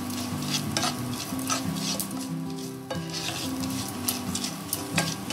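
Sesame seeds go into hot oil for a crispy Diwali snack, crackling in a close, dense sizzle with steady stirring scrapes and light clinks of the spoon on the pan, no talking.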